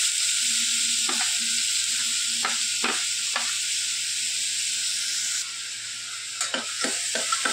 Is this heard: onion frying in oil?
yes